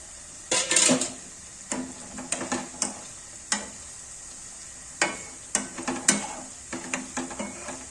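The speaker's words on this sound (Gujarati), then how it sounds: "તેલ થઈ ગયું છે ગરમ, અને પહેલા તો આપણે છે ને પાતરાને ફ્રાય કરી નાખશું." Taro-leaf patra rolls fry in hot oil with a steady, moderately loud sizzle, broken by a dozen or so sharp clinks and scrapes of a utensil against the pan; no one speaks.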